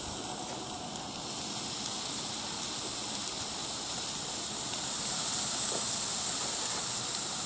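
Shish kebab skewers sizzle on a Char-Broil infrared grill, a steady bright hiss that holds throughout and grows slightly louder toward the end, with no voices.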